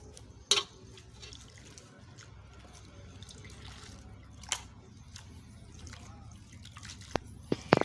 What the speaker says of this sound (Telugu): ఈ ఆకుకూరను మనం నీట్గా కడుక్కోవాలండి ఎందుకంటే పురుగులు ఉంటాయి కాబట్టి మనం నీట్గా కడుక్కోవడం వల్ల మట్టి అనేది కూడా వచ్చేస్తుంది